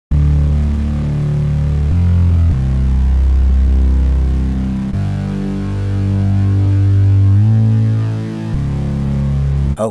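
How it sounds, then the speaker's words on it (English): Sustained electronic synth tones with deep bass from a fan-made Colorbox music mod play continuously and loudly, shifting pitch in a few steady blocks over ten seconds with no voices. "Definitely a synth."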